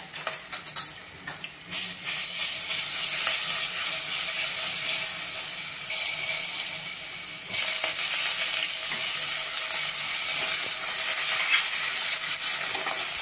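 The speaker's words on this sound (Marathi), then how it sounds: "आणि आता याच्यामध्ये आपण घालणार आहोत आलं लसूण पेस्ट आणि कांदा." Onion with ginger-garlic paste sizzling in oil in a pressure cooker over low gas, a loud, continuous hiss and crackle with occasional stirring scrapes, no talking.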